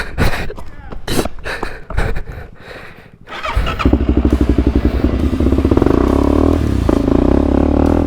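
Quad ATV engine starting up after some clattering and knocks, then settling into a loud, close, steady throbbing idle that builds slightly; a voice talks briefly at the start.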